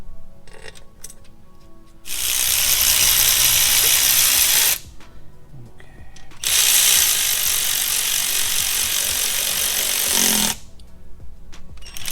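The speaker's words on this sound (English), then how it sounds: "Gotta torque them down. We'll tighten it down in a couple of stages." Ratchet or power tool running on intake manifold bolts of a 1965 Ford Mustang, in two long loud bursts of several seconds each with quieter gaps between, close up.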